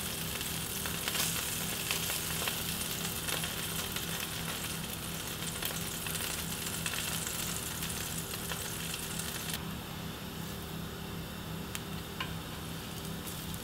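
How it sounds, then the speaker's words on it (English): Beetroot falafels sizzle steadily in a shallow film of coconut oil, a dense, even crackle of frying that holds at close range throughout with no voices. "Just a very small amount of coconut oil. Grab your falafels and just lay them"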